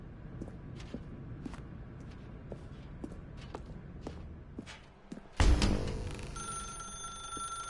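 A telephone bell rings in The Stanley Parable, a sharp ring bursting in after a run of soft, evenly spaced footsteps, then tapering off.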